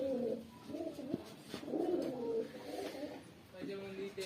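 Chinese pigeons coo in soft, rolling, low phrases, repeating several times over a few seconds. The birds are fairly near but quiet, and a light background hiss runs underneath.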